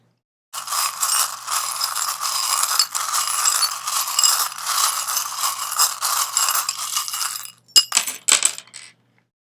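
Small metal charms rattle and jingle in a steady shaking stream for several seconds, then a few sharp clinks as they drop and land.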